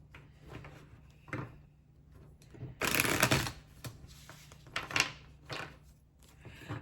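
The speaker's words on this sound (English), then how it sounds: "Let's grab some other cards here from this deck." A deck of tarot cards is handled and shuffled up close, with soft slides and riffles broken by a louder flurry of shuffling and a few sharp card snaps in a quiet room.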